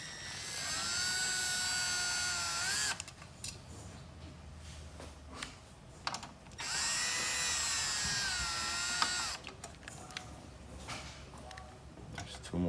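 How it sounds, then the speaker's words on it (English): A power screwdriver backs out the screws holding a computer power supply, whining in two sustained bursts, the second one longer and followed by short clicks and handling noise. "now you're gonna unscrew the power supply using taking off these 4 screws"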